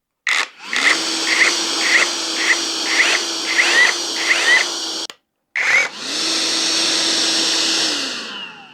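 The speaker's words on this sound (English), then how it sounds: "when we pull the trigger, it activates the vacuum extractor. And then when we fully pull the trigger, we're for hammer drilling demolition" A DCK 20V cordless rotary hammer with a dust extractor runs close by, its vacuum droning steadily beneath a rapid, regular hammering. After a brief stop it restarts with the extractor whining alone.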